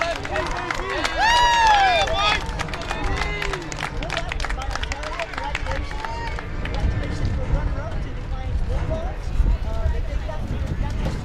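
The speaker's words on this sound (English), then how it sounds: "How about a nice round of applause to the Ontario High School Warriors and Coach Mike Ellis" A baseball crowd at a Division 2 regional championship applauds the Ontario High School Warriors and their coach, with dense clapping, cheering and crowd hubbub amid whistles and shouts.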